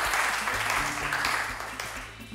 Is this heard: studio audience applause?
yes